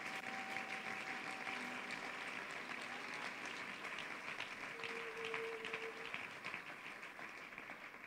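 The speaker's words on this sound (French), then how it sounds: "Est-ce qu'on peut mieux acclamer le Seigneur" A church congregation applauds steadily, a dense wash of clapping sustained evenly throughout, with a faint tonal hum underneath.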